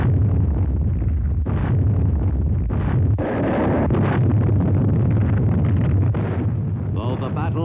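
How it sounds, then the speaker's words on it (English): Navy warships bombard the invasion beaches at Palau on D-Day morning in World War II, the final pre-invasion barrage: a dense, continuous low rumble with repeated heavy booms and bursts, loud and muffled like an old recording. "Early on D-Day morning, the Navy's warships sought to soften up the beaches by the final pre-invasion bombardment."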